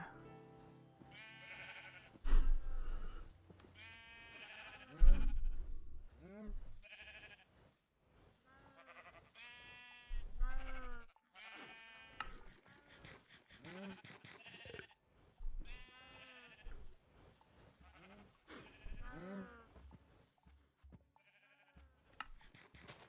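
Sheep bleats from modded Minecraft 1.12.2 sound repeatedly among layered effects and music-like tones, with speech weaving through at moderate loudness.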